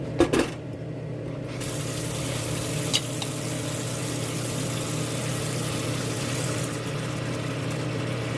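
Water runs steadily into a kitchen sink to soak a dish, a constant broadband rush with a few small clinks near the start and partway through.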